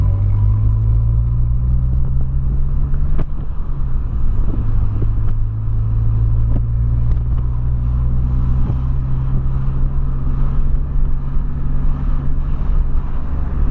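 A 2008 Volkswagen Polo Sedan engine rumbles steadily from inside the car while driving, a loud continuous low drone with road noise and no talking.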